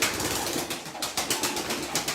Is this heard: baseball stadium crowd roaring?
no